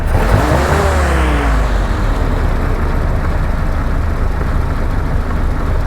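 A Hotchkiss Willys army jeep engine runs loud and close during carburetor tuning, a dense rough rumble that revs briefly near the start and then settles into a steady drone.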